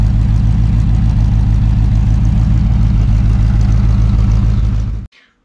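A 1975 square-body 4x4 truck idles loud and close through dual exhaust, a steady rhythmic low rumble that cuts off abruptly near the end.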